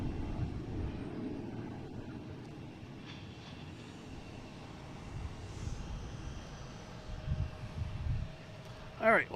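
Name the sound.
Cessna Citation Latitude business jet departing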